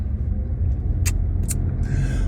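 A car drives along with a constant low engine rumble and road noise from inside the cabin. Two brief hissing clicks cut through partway, then a soft higher hiss.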